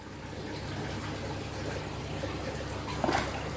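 Water splashing and sloshing from a pet named Wolfie in an exotic pet shop, a steady watery rush with a brief splash burst near the end, no talk.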